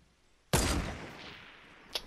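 A single sharp sniper rifle shot in Fortnite cracks loudly and rings out in a decaying tail, followed by a faint brief tick near the end.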